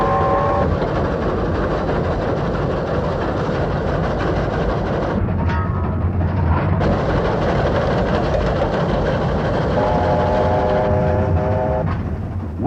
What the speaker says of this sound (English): the train was steaming into the vast expanse of the Australian outback